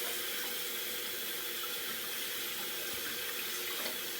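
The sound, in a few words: rinsing hands under running tap water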